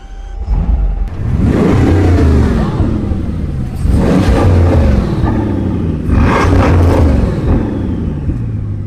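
A Bugatti Chiron Pur Sport engine roars loudly as the car accelerates hard, with three rising surges of revs and whooshing gear changes filling the whole stretch.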